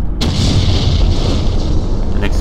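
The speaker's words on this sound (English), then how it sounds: "An explosion." A loud, sustained blast of explosions and gunfire rumbles through the Brutal Doom video game, a dense, continuous roar with heavy low-end boom and a hissing upper wash that runs the full length without pause.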